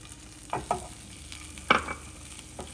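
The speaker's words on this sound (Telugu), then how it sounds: "దీన్ని కూడా మనం కొద్దిగా నూనెలో వేయించేసుకుంటే" Chopped onions fry in a little oil in a pan for a biryani, giving faint crackling sizzle with a few louder stirring scrapes and clatters, no voices.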